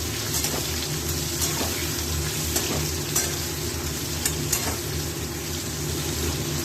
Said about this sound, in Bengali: এবার পেঁয়াজটা একটু ভাজা ভাজা হয়ে যাবে